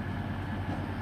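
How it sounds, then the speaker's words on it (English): An Arriva Trains Wales Class 175 diesel unit, the Holyhead to Maesteg service, rolls into Shrewsbury station with a steady low rumble and engine drone that stays constant throughout. "coming in now, it's a 15:15 Arriva Trains Wales service to Maesteg from Holyhead"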